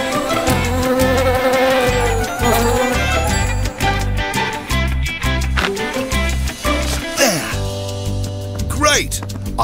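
Swarm of bees buzzing inside a van with its door half open, a steady insect drone running through the scene beneath voices and background music.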